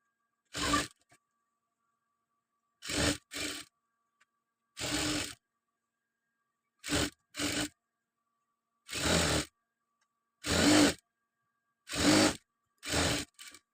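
A sewing machine stitches a chudidar seam all the way round, running in short, even bursts of about half a second, separated by pauses, close and clear with no talking.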